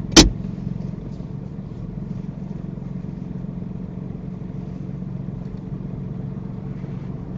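A car drives steadily during a driving lesson, giving a low, even engine hum and road rumble from inside the cabin. A short sharp click comes at the start.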